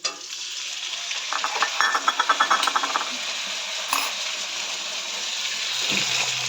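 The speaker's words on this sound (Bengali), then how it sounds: "এগুলো দিয়ে একটু ভালো করে কষাবো।" Potatoes sizzle in a pan with spices, whisked yogurt, cumin-ginger paste, salt, turmeric and tomato, a steady frying hiss broken by a brief run of rhythmic stirring scrapes near the start.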